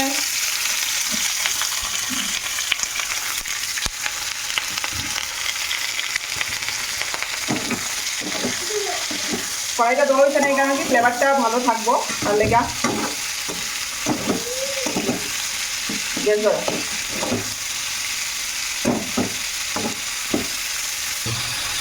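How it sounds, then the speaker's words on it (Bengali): Onions frying in hot oil in a kadai with bay leaf give off a continuous bright sizzle with occasional stirring scrapes, while a person talks over it partway through. "পেঁয়াজটা পেঁয়াজ দেওয়া হইতেছে"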